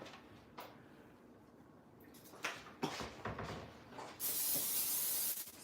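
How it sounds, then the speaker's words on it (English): A spray can hisses in a few short bursts followed by one longer sustained spray, close by, with faint handling sounds. "Let me spray it."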